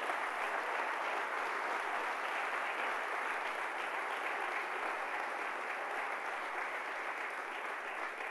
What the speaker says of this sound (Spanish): Sí, dale un fuerte aplauso a Jesús.